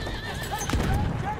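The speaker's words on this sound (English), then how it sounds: "Look at you on your horse." A horse in Battlefield 1 whinnies with a wavering, rising neigh, while clip-clop hoofbeats play under a continuous mix of battlefield ambience; the whole sound is moderately quiet and sits in the background.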